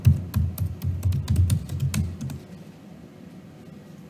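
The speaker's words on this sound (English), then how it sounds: "I'll enter my username and my password" Keys on a computer keyboard tapped in quick, uneven bursts while a username and password are typed in, close and crisp, then trailing off into quiet room tone near the end.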